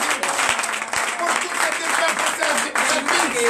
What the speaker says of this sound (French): Donnez encore l'acclamation à notre Seigneur Jésus.